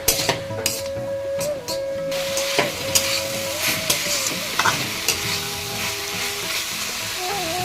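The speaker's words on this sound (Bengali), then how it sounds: "এখন এটাকে আবারও ভালোভাবে নাড়বো আর কি মিক্স করে দেব নুন হলুদটা" Chowmein vegetables with salt and turmeric sizzle in a pan while being stirred, with repeated scrapes and metallic clinks of a utensil against the pan over a steady fry, under light background music.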